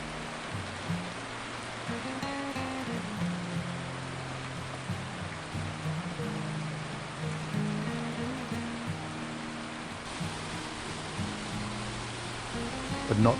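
Steady rain patters and a water tank overflows into a pond, splashing continuously, a constant hiss of falling water with a low background hum throughout.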